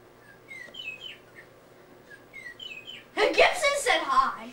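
A pet bird chirps a few short, high tweets as a greeting, fairly faint and spaced out, before a person starts talking loudly.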